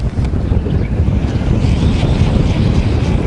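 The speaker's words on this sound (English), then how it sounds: "Ooh, that wind's blowing." Strong wind gusts across a lake during bass fishing, buffeting the microphone in a steady, loud rumbling roar with faint water sounds beneath and no talking.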